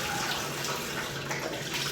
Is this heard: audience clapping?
no